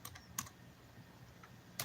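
Computer keyboard typing in short bursts: a quick cluster of clicks at the start and another at the end, with a faint lone keystroke between, close up over quiet room tone.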